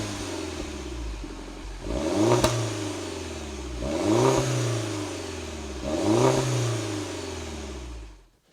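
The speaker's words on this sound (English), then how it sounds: "with the Mini Cooper S Coupe it's all played through the exhaust, and you do get some good notes" A Mini Cooper S Coupe's exhaust barks through three loud, evenly spaced revs, each climbing sharply and then falling back to a burbling idle before cutting off.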